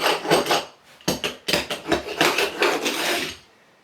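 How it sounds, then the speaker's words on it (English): Sharp metallic hammer blows on nails in a wooden floor, several quick strikes in uneven bursts with short pauses, close and loud. "There's a nail there, so I'm going to get a hammer on that."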